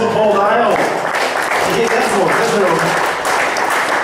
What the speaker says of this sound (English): Round of applause for Paul Dale.